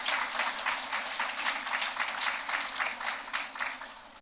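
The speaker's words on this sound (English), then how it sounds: "that applause is well deserved" Applause from an audience at an elementary school rededication, moderately distant and fairly soft, with individual claps audible in a brisk rhythm before it cuts off abruptly.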